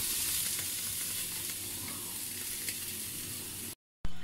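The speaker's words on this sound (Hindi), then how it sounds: "अब हम इसमें तड़का लगाएंगे।" Tadka tempering sizzles hot in the pan for masoor dal, a steady loud crackling fry that runs for several seconds before cutting out abruptly, with no voices.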